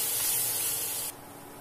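Onions fry with turmeric in a pan, a bright sizzling hiss that runs strongly for about a second and then drops abruptly to a quieter sizzle.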